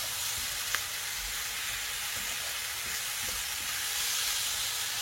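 Beef browning in a pan sends up a steady hiss and sizzle, close and even throughout, with one sharp click near the start. No one speaks.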